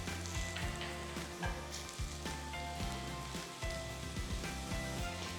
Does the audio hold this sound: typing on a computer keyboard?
no